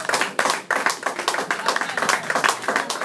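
A church congregation claps together as an offering of acclamation. The claps are loud, close and rhythmic, in quick bursts with brief pauses, and no voices are heard.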